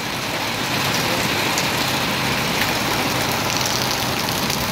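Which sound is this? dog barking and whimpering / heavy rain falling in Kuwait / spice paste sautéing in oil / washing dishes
heavy rain falling in Kuwait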